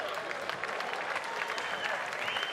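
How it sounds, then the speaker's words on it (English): A crowd at a live skateboarding park event in Malmö, Sweden, applauds skateboarder Rune Glifberg with dense, steady clapping and some cheering that carries evenly throughout. "Another round of applause for Rune Glifberg."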